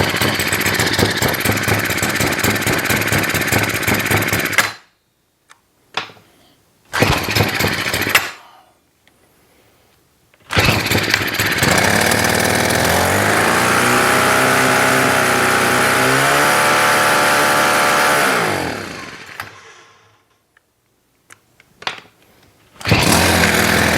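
A Troy-Bilt TB425CS string trimmer with engine and bump head problems runs in loud buzzing bursts that cut out into silence, then restarts and revs up and down before dying away again.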